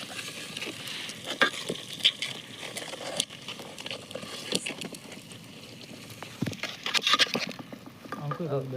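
Turmeric and ginger fry in oil in a pan for a Gujarati village-style vadiya palti. A soft, continuous sizzle runs under irregular stirring scrapes and utensil clinks.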